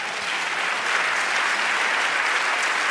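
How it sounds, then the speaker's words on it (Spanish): A congregation at a church service applauds for the Lord, a dense, steady wash of clapping hands that holds even throughout. "Dale un aplauso al Señor."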